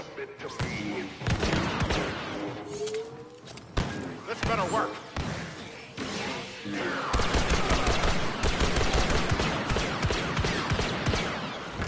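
Star Wars Battlefront II multiplayer combat with repeated blaster gunfire, bursts and impacts throughout, loud and close, mixed with shouted voices.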